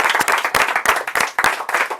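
The audience at a stage hypnosis show bursts into applause, a short burst of many close, brisk hand claps with no talking.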